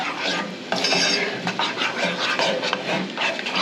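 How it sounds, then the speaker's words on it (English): Gravy gets stirred in a pan for a mushroom Swiss burger, with a close scraping and clinking of a utensil against the pan over a faint sizzle, in a steady repeated rhythm. "going to start just kind of stirring as we go so it don't lump up"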